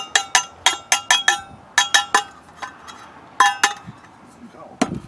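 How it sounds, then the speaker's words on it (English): Steel-cut oats tipped into a steel cup used as a bowl at a camp cooking setup: a rapid run of sharp metallic clinks and taps, several in quick bursts with short pauses, close and bright, ending in a louder knock. "dump them into my steel cup I use as a bowl"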